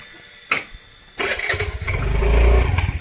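A short click, then a scooter engine cranks and catches, rising into a loud, rumbling idle close by.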